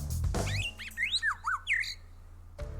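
An Australian lyrebird, a talented mimic, sings a run of clear, swooping whistles and chirps, about six phrases alone at close range, framed by brief noise at the start and end.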